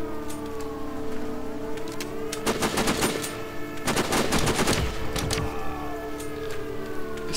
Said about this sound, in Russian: Сирена включилась.